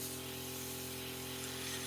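A spray trigger releases a short test burst of primer or ink while Warhammer 40K miniatures are painted yellow, a steady, even hiss that runs without a break, fairly quiet and close, with no voices.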